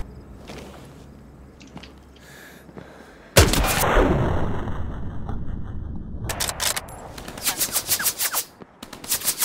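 Gunfire in the World War II shooter Hell Let Loose, with a sudden loud blast followed by rumbling, then a series of sharp rapid shots in bursts toward the end, near and loud.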